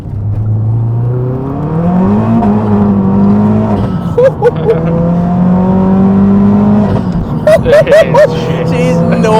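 A 360 bhp Renault Megane RS accelerating hard from inside the cabin, the engine drone climbing through gears with a loud steady roar and brief shift dips, under excited talk.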